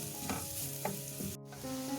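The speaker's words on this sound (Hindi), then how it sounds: "प्याज जो है देखें हल्की गुलाबी हो चुकी है, इसको ज़्यादा फ्राई नहीं करना है" Chopped onion and whole white cumin sizzle in hot oil in a pan, with a steady frying hiss and a few soft stirring scrapes over about two seconds, close and fairly quiet with no talk.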